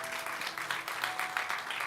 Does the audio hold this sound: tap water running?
no